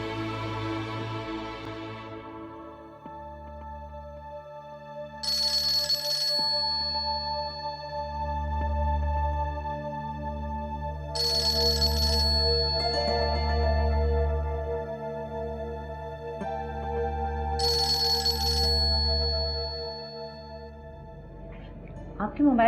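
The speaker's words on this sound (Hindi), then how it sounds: "आपके मोबाइल पे किसी का फोन आ रहा था" A mobile phone rings in a quiet room after an office conversation, three bright repeating bursts of ringtone spaced several seconds apart over a low steady hum.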